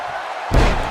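A heavy body slam from a neck breaker in the WWE 2K18 wrestling video game lands midway as a sudden loud thump, over steady arena crowd noise.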